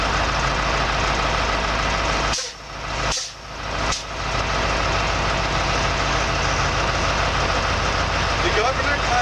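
Truck engine idling during an air brake governor test, a constant low rumble with a few short air-release hisses in quick succession near the middle.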